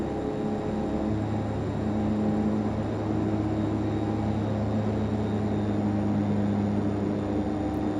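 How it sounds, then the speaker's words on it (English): Steady drone of a DHC-6-300 Twin Otter's propeller engines in FSX flight simulation, a continuous tonal hum with a low pitch that steps down slightly as the prop RPM drops, constant and fairly loud throughout. "It keeps bringing the prop RPM, like you can hear it, power come down, even though I haven't moved it"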